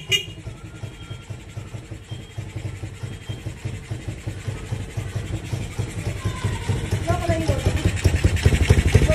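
A Ducati big bike's engine runs close by with a rapid, even pulsing beat that grows gradually louder and stronger over the stretch, with a single sharp thump at the start.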